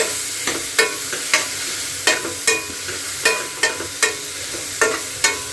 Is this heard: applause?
no